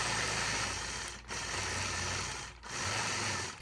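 A sewing machine running steadily while machine quilting swirl patterns, a close, loud continuous whir broken by two brief pauses as the stitching stops and restarts.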